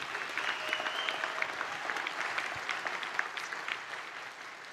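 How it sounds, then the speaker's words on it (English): Keynote audience applauding at a large business conference, a steady dense wash of clapping from many hands filling the hall, with faint crowd voices underneath. "Give yourselves another round of applause."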